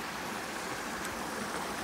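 Water of Moya Creek flows over rocks in a steady, close, broadband rush with no pauses and no voices.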